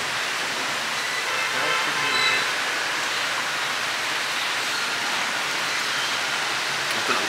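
Rain falls steadily outside a hotel room in Hanoi, a dense, even hiss that stays constant and fairly loud throughout, with no clear voices over it.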